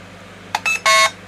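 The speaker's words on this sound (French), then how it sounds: "On se branche, ça va faire bip normalement." An airsoft M4 battery is plugged in and the gun answers with three short electronic beeps close by, the last one longer and loudest, in an otherwise quiet room.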